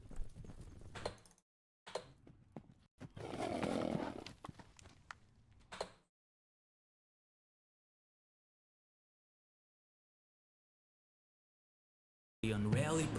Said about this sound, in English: Here we have some horses sounds.